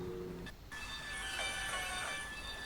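A video-game train rolls along, heard from inside a carriage. A low rumble is broken by a short gap, then a brighter metallic hum and faint squeal sustain at moderate level.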